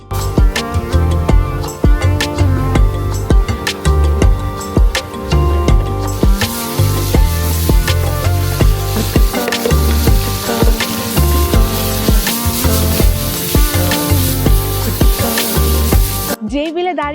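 Continuous loud sizzling of fresh beel fish frying in hot oil at a roadside fish eatery, with a busy layer of background music or voices running throughout.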